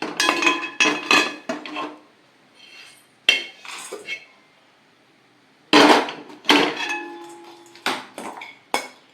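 Roasted paddy puffed rice tipped into a vessel, bursts of rattling, clinking pours and metallic scrapes in irregular clusters separated by quiet gaps.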